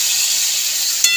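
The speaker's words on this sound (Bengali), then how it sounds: "এবার জল দিয়ে দেবো পরিমাণ মতন।" Water hits hot fried spice paste and potatoes in a pan for a Bengali fish curry. It makes a loud, close, hissing sizzle for about a second, with a sharp burst near the end.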